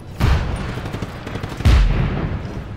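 Gunfire in Just Cause 3 comes as two loud, punchy bursts of shots, the second heavier and followed by a rumbling decay, with no talking.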